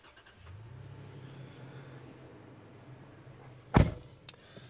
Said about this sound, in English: Go ahead and start it. It does come with a push start.